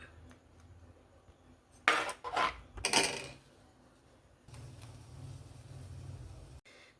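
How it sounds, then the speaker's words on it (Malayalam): A spoon scrapes and clanks against a pot while stirring sardine and Chinese potato curry. Two short bursts of metallic clatter stand out over a quiet kitchen background, followed by a low hum. "നമുക്കൊന്ന് സെറ്റായി ഇളക്കി കൊടുക്കാം."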